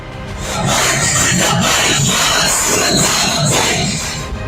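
A huge crowd of hundreds of thousands of mourners roars and shouts continuously at Maulana Khadim Hussain Rizvi's funeral gathering at Minar-e-Pakistan in Lahore, a dense, loud wall of voices with rhythmic surges of chanting.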